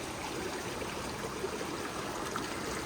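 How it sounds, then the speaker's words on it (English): A small creek flows steadily in a continuous, even wash of water, with no voices. "Small creek."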